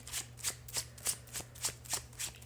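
Deck of oracle cards being shuffled close up: a quick, even series of about eight crisp riffling bursts in steady rhythm, quiet and alone.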